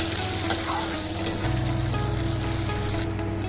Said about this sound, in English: add sliced onions, and saute till onion are translucent state